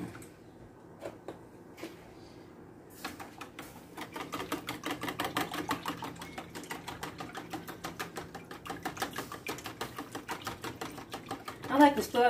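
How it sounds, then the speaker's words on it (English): A flank steak marinade is whisked in a bowl, producing quick, rapid, even ticking strokes that begin after a short quiet stretch and carry on steadily, close and moderately loud. "And we're going to give this a nice whisk."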